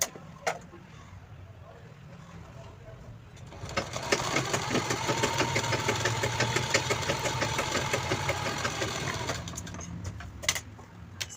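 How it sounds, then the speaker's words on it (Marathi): A sewing machine runs steadily for several seconds, stitching a zipper onto a fabric pouch for holding a mobile phone and money, with a continuous mechanical whir that starts after a quiet lead-in and stops near the end. "आपल्या सरळ बाजूवर चेनीची उलटी बाजू ठेवायची आहे पॉकेटच्या आणि स्टिच करून घ्यायचं आहे"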